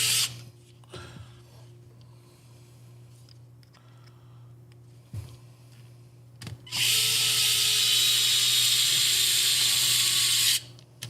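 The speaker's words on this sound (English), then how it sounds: "we got three screws that go in on each side" Screws are driven into a TRX4 RC crawler chassis: quiet bench clicks and handling, then a loud high whirring burst runs for about four seconds before cutting off.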